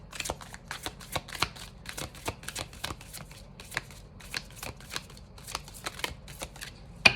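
A tarot card deck being shuffled by hand, a rapid series of sharp riffling snaps and flicks in irregular bursts, close and fairly loud, with no voices.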